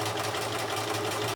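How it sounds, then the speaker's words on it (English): Sewing machine stitching a strip onto a scrappy quilt, a rapid steady mechanical whir with even stitch rhythm, close and loud, stopping abruptly at the end. "I'm actually just going to sew this strip on first."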